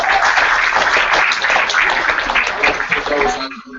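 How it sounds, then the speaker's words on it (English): A crowd at a tribute event claps hands in a loud, dense burst of applause that tapers off near the end. "I'll clap."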